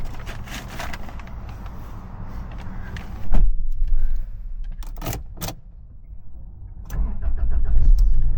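A 1998 Toyota Land Cruiser Prado is handled inside the cabin, with a few sharp clicks and clunks, then its engine turns over and settles into a low, steady rumble near the end. No one speaks.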